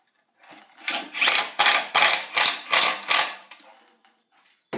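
A screw is driven into a wooden bookshelf with a power driver, which gives six loud, close, rattling bursts in an even pulsing rhythm, a brief pause, then a final click.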